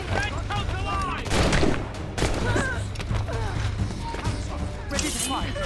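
Naval cannon volleys from Assassin's Creed Rogue, booming blasts and crashes spread through the clip, with crew voices shouting over the fire and a steady low rumble underneath.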